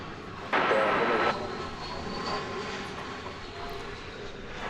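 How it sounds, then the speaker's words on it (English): Airliner taxiing toward its parking stand at DFW Airport, a distant jet engine hum with a brief louder rush near the start, then a steady far-off whine under faint radio chatter. "that aircraft off to find its parking spot"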